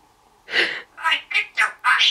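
A pet parrot mimics a duck's quack, giving five separate nasal quacking calls in an uneven rhythm, loud and close, with short quiet gaps between them.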